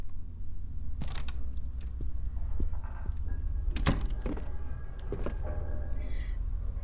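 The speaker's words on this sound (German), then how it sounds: "Ist das nochmal eine Tür? Ah ja, ist nochmal eine Tür." Door opening in the horror video game Song of Horror, a few dull thunks and faint creaks spread over several seconds against a low steady background hum.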